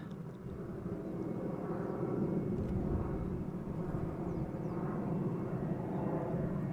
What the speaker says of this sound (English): A320 Neo arriving from London Gatwick